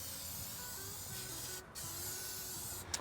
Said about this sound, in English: I'm gonna get in there with my spray canola oil, and I'm just gonna spray those metal surfaces down.